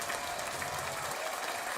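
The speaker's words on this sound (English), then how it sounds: "Let's get some applause going." Steady applause from an audience at a recorded show, a dense wash of clapping holding at an even level through the whole short stretch with no voices over it.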